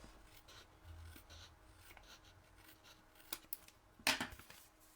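Scissors snip an overhanging strip of paper off a card craft piece, a few quick crisp cuts near the end followed by a brief rustle, fairly close and quiet with no talking.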